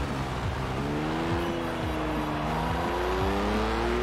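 A stock BMW M5 E60 in Forza Horizon 4 drives with its engine humming loud and close, the pitch sliding up and down through gear changes in an unbroken drone, without any voices.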